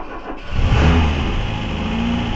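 The engine of a 1979 Renault 17 TS catches and revs up, then settles into a steady mid-pitched run with a busy mechanical clatter from the rocker arms, loud and close with no talk.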